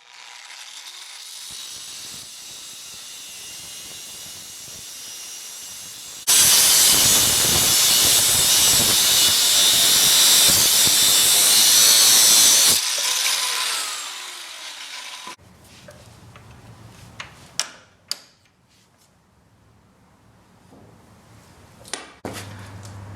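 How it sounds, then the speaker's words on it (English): Cutting the head off a stuck bolt nut on a Yamaha Raptor 660R ATV: a loud, steady grinding hiss holds for several seconds, then stops, followed by quieter clanks and taps of tools on metal. "So I just got the head cut off the nut."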